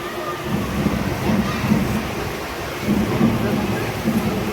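Heavy rain pours in a thick, constant wash during an Ashadhi Ekadashi wari procession, with low rumbles and muffled voices underneath.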